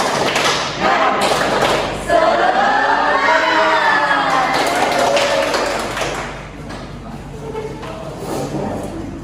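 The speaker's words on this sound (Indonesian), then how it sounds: "Kita akan melakukan ice breaking, yaitu tepuk semangat." A junior high class in Indonesia does a rhythmic clapping ice-breaker chant together. Dense claps and thumps come in patterned bursts while many voices chant and shout loudly over them, all close by.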